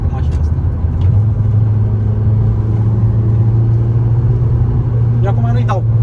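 A VW Scirocco's 2.0 TDI diesel engine rumbles with a steady low drone inside the car while driving, and someone talks over the noise.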